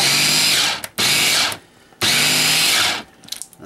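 Boiled chickpeas being ground for hummus in a food processor or blender: two long, loud, steady whirring runs with brief pauses between them, no voices.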